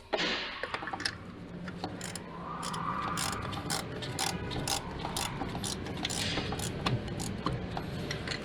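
A ratchet clicks steadily while tightening the plastic thermostat housing bolts on a 2017 Hyundai Tucson, a close, continuous ratcheting rattle with dense ticks running the whole time and no voices.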